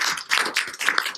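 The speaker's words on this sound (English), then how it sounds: "Let's give them another round of applause" Applause for students at a school board meeting, a dense patter of many hands clapping steadily and moderately close throughout.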